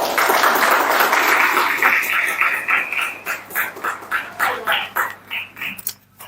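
Loud audience applause at a university event on national reconciliation, dense clapping that breaks into separate pulsing bursts and then cuts off as a voice begins.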